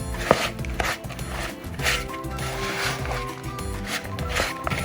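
A thick almond butter and oatmeal dough for energy balls is worked by hand, giving repeated soft thuds and sticky scraping in an uneven rhythm, close and moderately loud, with no speech.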